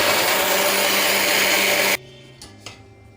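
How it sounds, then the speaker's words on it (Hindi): A mixer grinder grinds sama rice in its jar with a loud, whirring roar for about two seconds, then cuts off abruptly, followed by a couple of faint clicks. "अब सबसे पहले हम समा के चावल को पीस कर तैयार करेंगे"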